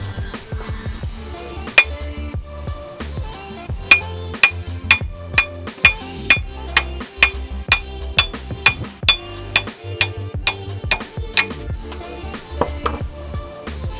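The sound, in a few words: hammer pounding out an old wheel stud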